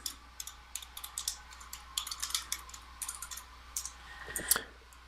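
Fast, irregular keystrokes on a computer keyboard, close and fairly quiet, clattering alone as a search term goes into a library homepage's journal search box.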